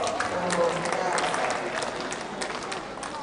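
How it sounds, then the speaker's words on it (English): Applause for a speaker at a World Engineering Day celebration: a fairly quiet, steady wash of clapping from an audience, a bit distant, with faint voices mixed in underneath. "Please give her a round of applause."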